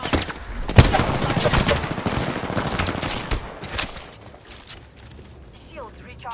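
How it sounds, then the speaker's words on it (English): Heavy automatic gunfire in the battle royale game Apex Legends, dense rapid bursts and sharp shots at close range that thin out after a few seconds, with a voice talking over the shooting. "Bow boys are shooting at me"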